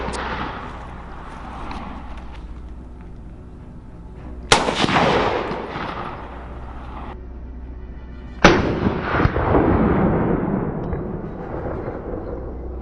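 Two sharp, loud gunshots crack out in a field during a wild boar hunt, each followed by a long rolling echo, against a steady low background rumble.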